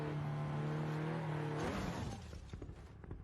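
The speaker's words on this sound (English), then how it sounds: "Testing the maneuverability of all Porsche to see which one is the best. Porsche 930 Turbo." A Porsche 930 Turbo engine runs at steady high revs, then shifts and fades into rougher, uneven mechanical noise over a few seconds.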